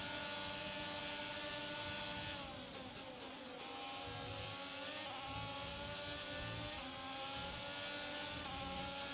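A Formula 1 car in the F1 22 racing game drones loudly and steadily at high revs, its engine pitch sweeping down and back up as it passes, with no talking.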